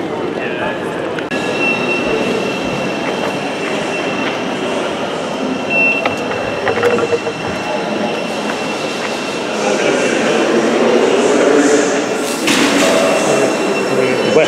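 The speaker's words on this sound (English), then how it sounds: "Let's do one stop on the tube." Ride on a London Underground tube train, a steady loud rumble of wheels and motors throughout, swelling and rising in roar toward the end with some screeching tones, voices faintly audible beneath.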